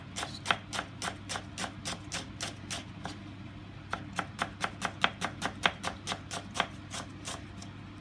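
A knife chops food on a cutting board for a bangers and mash dish, making about twenty crisp, evenly spaced taps over a steady low background hum, with a short pause midway.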